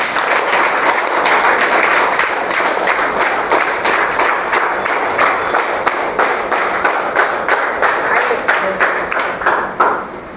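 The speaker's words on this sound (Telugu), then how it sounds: "ఇప్పుడు గట్టి కొట్టండి చెప్పండి" Sustained audience applause at a motivational business talk, loud and dense for about ten seconds, with many hands clapping in a steady wash and a faint crowd murmur beneath before it begins to fade at the end.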